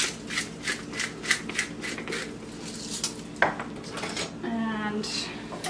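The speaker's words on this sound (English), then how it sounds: "I'm going to put my diced onion in, a little salt, a little pepper" Diced onion with salt and pepper goes into a cast iron skillet: a string of rhythmic metallic taps and clinks from a utensil, then a brief scrape and some softer stirring, all close by.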